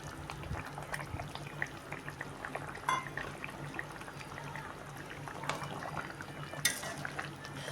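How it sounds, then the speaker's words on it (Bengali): A light Pabda fish curry bubbles gently in a pan after garam masala goes in, a soft, steady simmer with faint liquid crackle and no voices. "খানিকটা ফুটবে, তারপর আবার নামিয়ে নেব"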